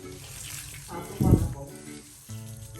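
Water splashing and pouring while two elephants are bathed, a brief close burst of splashing with voices talking over it.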